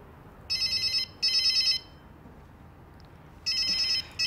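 Electronic telephone ringtone in a Thai film scene, sounding in three bursts: two close together, then a pause, then a third. Each burst is bright and warbling, over a faint quiet room background.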